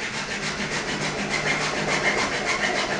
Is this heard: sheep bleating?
no